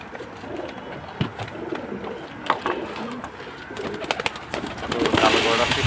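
Pigeons coo in soft repeated bursts, fairly close, with scattered rustling and a few sharper clicks and flutters rising toward the end.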